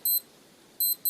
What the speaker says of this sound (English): let's see if the alarm works